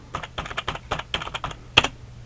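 Typing on a computer keyboard comes in a quick, close burst of uneven keystrokes, ending with one sharper, louder key press.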